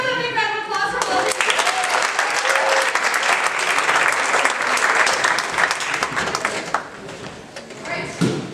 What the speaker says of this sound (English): Everyone give Rosa a big round of applause for Rosa.